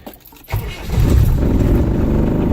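A brief crank and then a Land Rover engine catches and settles into a loud, rumbling idle nearby, with a little rattling at the start.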